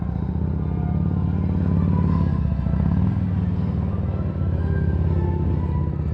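A motorcycle engine drones steadily nearby during a Fourth of July parade in North Carolina, a loud low rumble with slight shifts in pitch as it runs.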